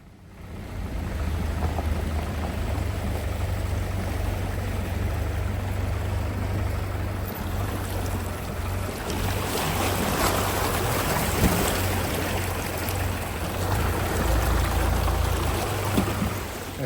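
Water of the Goulburn River flowing over a vehicle crossing in the mountains, a continuous broadband rush that swells louder in the second half, with a low steady hum underneath and no talk.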